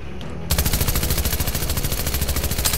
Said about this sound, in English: this SMG might be the best gun to use against him